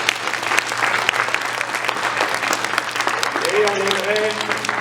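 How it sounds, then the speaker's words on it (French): Indoor audience clapping steadily for the volunteers at a community event, continuous applause throughout with voices talking over it toward the end. "On peut les applaudir, s'il vous plaît"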